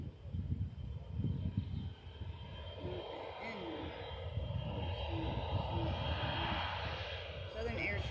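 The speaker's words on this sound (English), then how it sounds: "He's lining back up on the runway. This is the civilian version of the C-130." A civilian version of the C-130 turboprop transport, carrying a military tail number, lines back up on the runway for touch-and-go practice; its engines give a steady, moderately distant drone, with speech over it.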